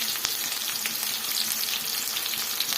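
Onions fry in a pan with steady, close sizzling crackle and a faint stir around a quarter second in, just before cumin and fenugreek go in; no talking.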